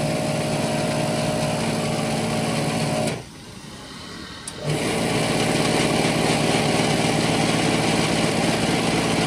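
A small electric shopping-mall air pump inflating a scooter tire whirs loudly and steadily, stops briefly for about a second and a half, then resumes its buzzing motor drone.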